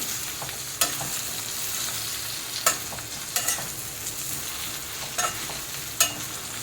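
Green chillies frying in a pan with turmeric, cumin powder, salt and spices hiss steadily while a spoon scrapes through them, sharp clanks recurring every second or so, close up and without talk.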